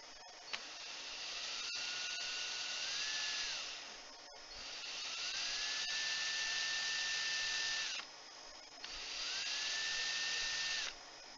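A power drill twisting wire for Speed Chain coil winding whines in three long bursts, each rising in pitch as it spins up and then holding steady, with short pauses and faint clicks between runs.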